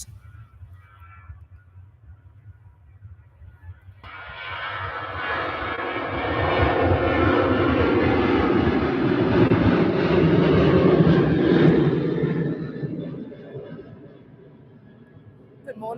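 A Jet2 airliner operated by EFT Airways takes off at Manchester Airport, its engine roar swelling in abruptly, holding loud for several seconds, then fading away, with a voice talking over it.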